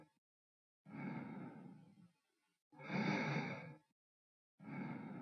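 A patient breathes normally during a stethoscope lung exam in a nursing simulation, with three soft, airy breath sounds spaced evenly apart, each lasting about a second, separated by quiet pauses.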